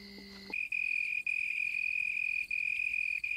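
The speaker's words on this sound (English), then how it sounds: "The leaf is the cricket's soundboard, and the sound produced is magnified in intensity as much as 3 times." A cricket chirps in a steady, high, continuous trill from a leaf at night in Africa, close and clear, with a few brief breaks, after a short burst of other night sounds.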